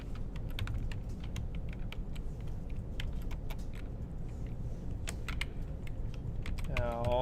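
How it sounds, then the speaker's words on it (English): Fingers typing out code on a computer keyboard, a quick irregular run of soft key clicks over a steady background hum, with a brief tonal sound near the end. "I'll just type it out"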